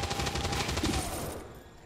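Rapid automatic gunfire from a suppression shot in the XCOM 2 video game, a loud, dense burst of repeated shots that fades over its final half-second with no talking.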